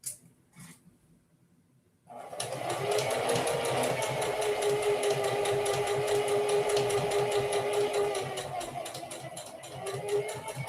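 A sewing machine stitches a seam in cloth under the presser foot, starting after a brief pause and then running as a steady, close, rapid whirring hum for several seconds before easing slightly near the end.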